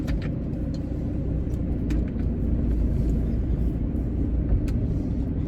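A car engine rumbles steadily while the car is moved on a home driveway, a low continuous idle close by with no talking.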